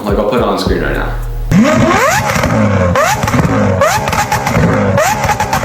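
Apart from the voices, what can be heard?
sports car engine sound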